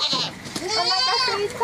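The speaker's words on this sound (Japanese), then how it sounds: "ヤギたちはご飯が待ちきれず、" Goats in a shed behind a farmhouse bleat loudly and continuously as they wait for their feed, several overlapping wavering cries close by.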